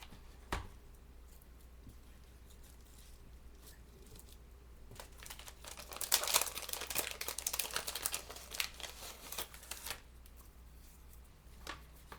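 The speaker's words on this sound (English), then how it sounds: "you can just kind of fold them up and just kind of tuck them here and there" Craft flowers for a decorated birdcage being folded and tucked by hand, giving soft papery crinkling and rustling that swells into a denser burst midway, quiet and close with no voices.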